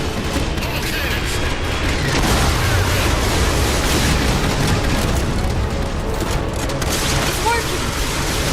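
Cannons firing and explosions in the video game Halo 4: a dense, loud wall of booming blasts and rumbling battle noise, sustained without pause, with shouted voices mixed in.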